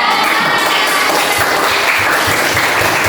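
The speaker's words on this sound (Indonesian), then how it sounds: "Terus yuk kita tepuk tangan untuk kita semuanya hari ini sudah belajar dengan giat." A classroom of children claps together in a dense, steady burst of applause, close and loud throughout with no pauses.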